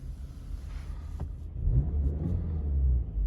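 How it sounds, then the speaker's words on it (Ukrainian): Skoda Octavia Tour engine catches quickly and settles into a steady low idle rumble, close and fairly quiet, with no talk over it. "заводиться авто з півоберту."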